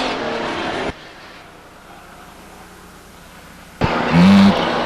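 A race car motors along the track at Stockton 99 Speedway, a loud engine burst at the start dropping to a distant drone for several seconds before another loud surge closes the stretch.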